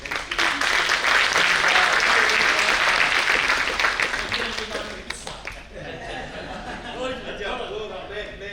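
An audience bursts into dense, loud applause that holds for several seconds and then thins out and fades, leaving a quieter room where a voice begins speaking.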